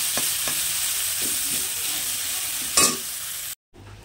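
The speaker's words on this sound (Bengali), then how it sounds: "পেঁয়াজটা লাল লাল করে ভেজে নিয়ে শাকটা দিয়ে দেবো।" Onions and leafy greens fry in a pan with a steady close sizzle, broken by a few soft scrapes of stirring and a brief sharper clatter near the end before a short dropout.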